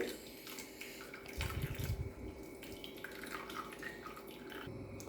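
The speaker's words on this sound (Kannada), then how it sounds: "ತೆಂಗಿನಕಾಯಿ ಹಾಲು ಸೋಸ್ಕೊಳ್ತೀನಿ" Fresh coconut milk strained for moong dal payasa, a quiet steady trickle and drip of liquid that swells into a brief fuller gush partway through, close but faint, with no voices.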